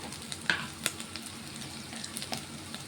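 Bitter gourd pieces sizzle gently in a pan with coriander powder while a utensil stirs them, with a couple of sharp clinks over a steady soft crackle, close by.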